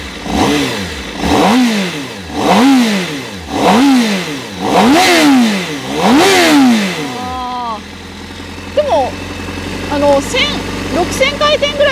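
The engine of a Honda CBR1000RR-R motorcycle is revved about six times in a rising and falling rhythm, loud and close, then settles back to idle while people talk briefly.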